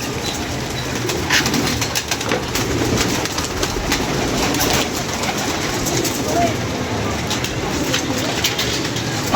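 A flock of pigeons coos steadily and close, with their soft throaty calls overlapping continuously and now and then a flutter of wings.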